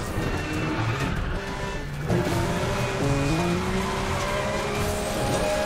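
A car skidding sideways in the racing video game Need for Speed The Run, with a steady roaring engine and long tire squeals rising and falling as it drifts, loud and continuous.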